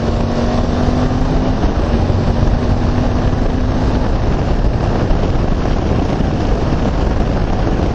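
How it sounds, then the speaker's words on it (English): A 2014 Suzuki V-Strom 1000 motorcycle engine drones steadily while riding, a loud continuous roar blended with heavy wind rush and no voices. "That's a strong engine"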